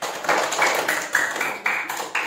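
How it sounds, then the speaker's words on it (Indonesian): Students in a classroom clap for the best group in a lesson on the Malin Kundang story. The claps come loud and close in short, rhythmic bursts, like a patterned group clap. "Beri tepuk tangan."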